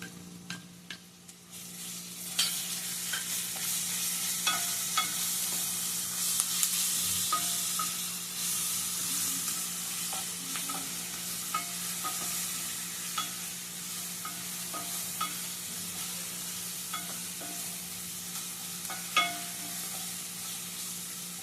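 Ginger garlic paste with a little salt cooks in oil, giving a steady soft sizzle over a low hum, broken by frequent light clicks and scrapes of stirring, close and without speech.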